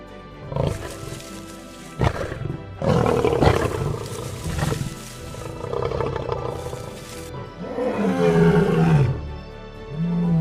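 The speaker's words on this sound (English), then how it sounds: "The thunder of a prime male lion's roar ranks among the most commanding sounds on the African savanna" A deep, powerful lion roaring in several long, rumbling bursts, loud and close, with brief pauses between calls and a final drawn-out roar.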